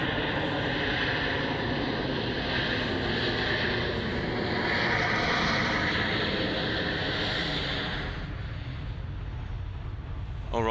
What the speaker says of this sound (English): it's time now for the Emirates A380 now departing runway 34 left, off to Christchurch